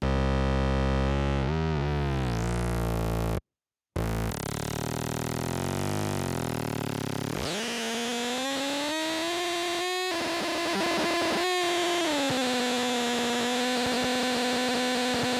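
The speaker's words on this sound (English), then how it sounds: "we've got a cacophony of feedback sounds of various shapes and forms" A waveshaper synthesizer feedback patch produces a harsh, distorted cacophony: sweeping buzzy tones, a brief dropout, then a dense sustained drone with layered harmonic whines and crackling bursts, loud and alone.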